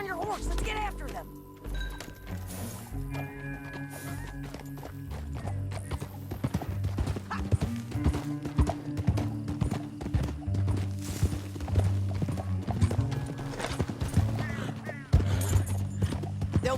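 Horses gallop in a video game, rapid rhythmic hoofbeats pounding close and loud over a bed of dramatic music, with a whinny and occasional sharp hits.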